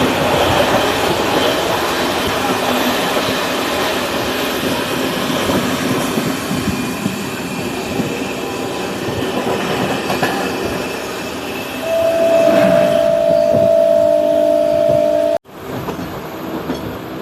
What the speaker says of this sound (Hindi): अपनी ट्रेन बढ़ रही है रुड़की होते हुए सहारनपुर जंक्शन की तरफ